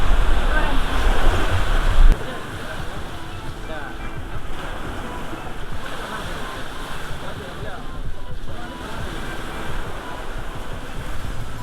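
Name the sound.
ocean waves on a beach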